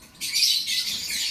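A female lovebird inside a nest box with eggs gives a short harsh squawk lasting about a second, close and fairly loud, with no talk over it.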